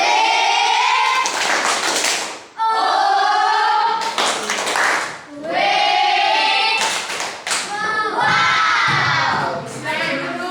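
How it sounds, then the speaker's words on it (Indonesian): A primary school class in a Pancasila civics lesson does the 'tepuk wow' group clap for a presenting group: loud, close children's chanting and shouting punctuated by bursts of clapping in a few rhythmic rounds. "jika tidak ada kita tepuk wow untuk kelompok 2"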